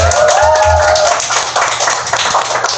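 A studio audience on a Korean talk show claps for guest Kim Dong-ryul, a short burst of loud, close applause with a brief voice at the start.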